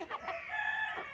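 An Aseel rooster, a home-bred fowl, crows once in a single sustained, close, loud call with a harsh tonal rise that holds steady before breaking off, with no talk over it.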